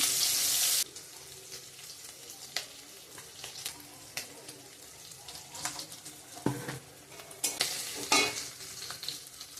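Bay leaf and onion for tempering frying in hot oil, a soft sizzle with scattered stirring clicks and scrapes, preceded by a short loud hiss at the start and occasional running-water sounds nearby.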